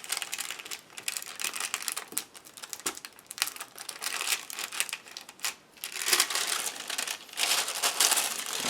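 Thin transfer foil crinkling and rustling as it is handled for a craft stick, close and fairly quiet, in irregular crackly bursts with no talking.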